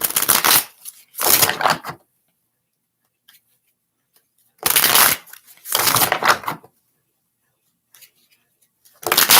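Tarot cards are shuffled in two-burst bouts, each a dense riffling rush lasting under a second, repeating with quiet gaps between, close and fairly loud with no talk.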